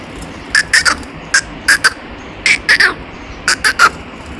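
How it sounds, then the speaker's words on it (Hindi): Parrots give repeated sharp squawks, a close series of loud short calls in quick clusters over a quiet background. "मीठे तोते"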